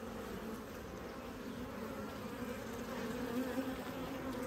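Honeybees hum in a steady, dense drone from an opened hive during a brood check, a constant close buzz with no talking.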